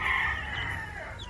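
Young labuyo wild chickens, recently moved chicks, cluck and chirp together in a close cluster, with a steady stream of bright calls over low background rumble.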